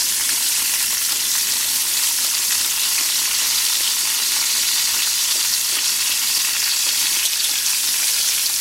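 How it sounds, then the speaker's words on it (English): Onions with kosher salt and black pepper fry in a hot pan, giving a steady, loud, bright sizzle that stays unbroken throughout, with no talking. "I am going to stir these a few times to kind of break up the onions as they get warmer"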